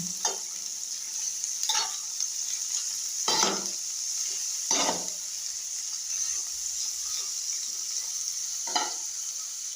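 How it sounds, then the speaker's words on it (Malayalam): Broad beans (avarakka) for thoran stirred in a hot pan, an even frying hiss under a handful of distinct scraping spatula strokes spread through the stretch, close by and without talk. "അവരയ്ക്ക ഇട്ട് കഴിഞ്ഞിട്ട് ചെറുതായിട്ടൊന്ന് ഇളക്കി കൊടുക്കണം"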